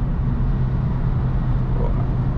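A Peugeot 308 GTi 1.6 turbo engine drones steadily and fairly loudly from inside the cabin while driving, a continuous low rumble with road noise and no speech.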